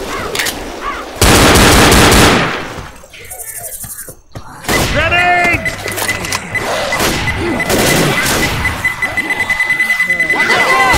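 Gunfire from the video game Left 4 Dead comes in loud, close volleys, with rapid automatic bursts among heavier shots, amid chaotic in-game noise and brief lulls between barrages.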